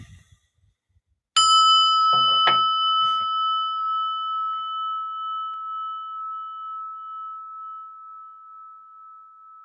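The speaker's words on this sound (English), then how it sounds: "let's listen to the bell and get ourselves relaxed here" A meditation bell is struck once after a few faint taps, ringing out with a clear, pure tone that hangs in near silence and slowly fades with a gentle wavering pulse.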